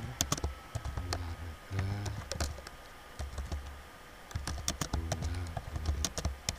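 Computer keyboard typing clicks out in uneven bursts of keystrokes, close and moderately quiet, while a voice speaks briefly in between.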